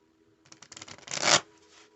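Tarot cards are shuffled close up, a quick burst of riffling flicks that builds to a dense, louder rush before stopping abruptly, over a quiet background.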